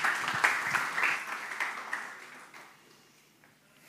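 Audience applause at a 2019 software conference talk, a burst of clapping from a seated crowd that fades away over the last second or so.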